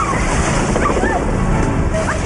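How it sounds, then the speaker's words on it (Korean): Ocean surf from a winter seaside scene in a Korean TV drama, a steady loud wash of waves and sloshing water filling the whole stretch with no voices over it. "찬디에게 찾아온 시련, 파도에 온몸을 다 적시며 열연을 펼쳤던 바로 그 장면."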